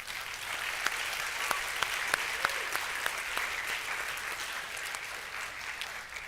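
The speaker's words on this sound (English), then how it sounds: "Let's give one more round of applause for all 6 contestants tonight on their talent" Audience applause for talent performances by six pageant contestants at a small-community friendship festival, steady moderate clapping with a few sharp individual claps standing out, continuing without talk.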